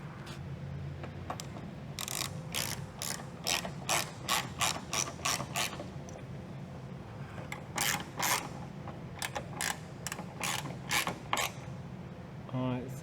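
A hand ratchet tightens a bolt on the fender of a 2015-2020 Ford F150 Lariat, giving quick runs of crisp clicking in short bursts with brief pauses, close and alone.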